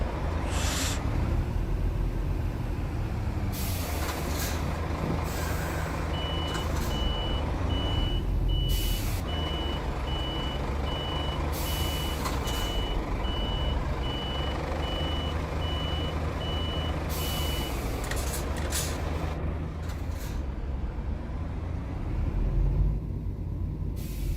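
A truck reverses onto a loading bay, its steady reversing beeps repeating at an even rhythm for about twenty seconds over loud engine rumble and hiss, with short bursts of air-brake noise in between.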